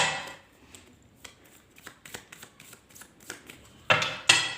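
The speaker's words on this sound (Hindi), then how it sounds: "last shuffle," Tarot cards are shuffled by hand, with soft flicks and riffles building to two louder riffle bursts near the end, close and fairly quiet with no voice.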